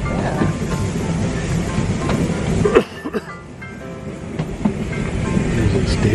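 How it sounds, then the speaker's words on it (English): A narrow-gauge steam train in Wales rolls along its rails with a steady rumble and rhythmic clickety-clack of the carriages, a brief louder knock midway, and a voice heard over the running noise. "There's a bigger train."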